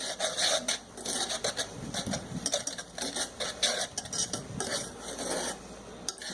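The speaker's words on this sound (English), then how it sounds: "Mix this all up before we put the heat on." A spoon stirring a ham glaze of Dr Pepper and other ingredients in a pot before heating, a steady scraping and rubbing swirl against the pot, close and continuous with no talk.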